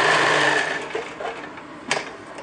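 A sewing machine runs steadily while stitching a double-fold hem with a 2-inch hemline, its motor hum loud and close at first, then easing off with a few short bursts near the end.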